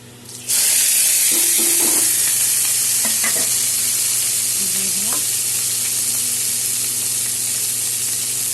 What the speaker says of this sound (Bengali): এখন কেটে ধুয়ে রাখা এক মুঠা ঢেঁকির শাক আর 3টা কাঁচা লঙ্কা